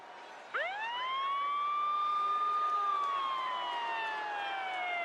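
A loud siren wail sweeps sharply upward, holds a long high tone, then slowly sinks. It sounds alone and close.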